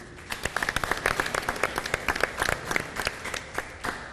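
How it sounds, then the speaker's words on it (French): An audience applauds the two teams at a youth debate semi-final, producing a steady, moderately loud patter of many hands clapping that runs throughout with no voices. "Félicitations aux deux équipes, on les applaudit."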